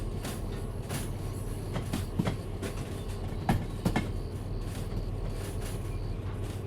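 Train rolling along rails in the video game Derail Valley, heading toward the harbor: a steady low rumble with a few sharp wheel clacks and squeaks around the middle, continuous and fairly close, no talking.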